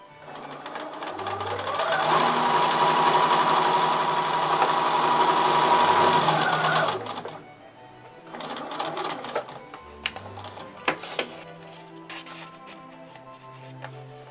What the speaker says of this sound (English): then we're going to take it back to our sewing machine.